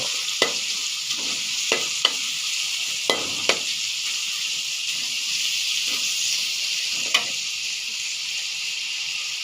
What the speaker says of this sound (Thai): ผัดบอบโคลี